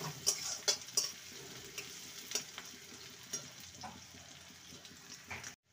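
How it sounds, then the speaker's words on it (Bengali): Chopped medium onion frying lightly in hot oil for an egg and onion dish, a quiet, continuous hiss broken by a few light clicks and stir scrapes, fading abruptly at the end. "পেঁয়াজটাকে হালকা ভেজে নেব।"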